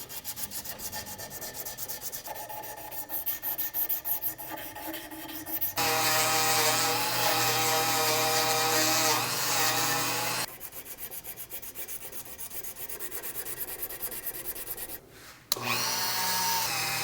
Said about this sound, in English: grab some higher grit sandpaper on one of these files to really smooth out those corners